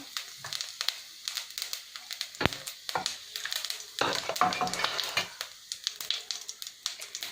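Cumin seeds sizzling in about three spoons of hot oil in a frying pan while making samosa filling; a crackling, spattering fry with sharp pops and a spoon stirring, close and fairly quiet.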